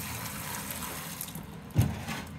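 Water runs steadily from a tap while pieces of cut raw jackfruit are washed, a close, even stream with a brief louder splash near the end.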